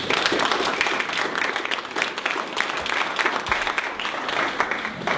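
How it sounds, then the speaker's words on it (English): An audience at an LA2M inbound marketing meeting gives a speaker a round of applause, a dense, steady burst of clapping that lasts throughout without letting up. "let's give Derek another round of applause"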